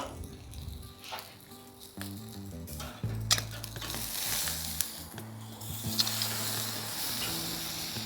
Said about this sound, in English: get your skillet or cast iron and just crank it up on the max and sear it just before you're ready to serve